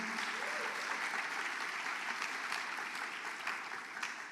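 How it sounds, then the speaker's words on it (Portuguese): A church congregation applauding, a dense, even wash of many hands clapping at moderate distance, sustained for several seconds without letting up. "Dê um aplauso a Ele."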